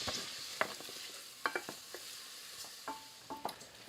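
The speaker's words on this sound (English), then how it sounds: "Our butter is melted and sizzling, so let's get this onion added into the butter." Onion frying in sizzling butter: a steady bright hiss with scattered clicks and scrapes from stirring, close by and with no talking.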